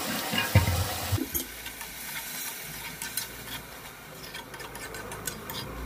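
A splash of water poured into a pan of tomatoes and kinema soybean curry, giving a brief splash and gurgle early on, then soft stirring and quiet sizzling nearby, with no voices.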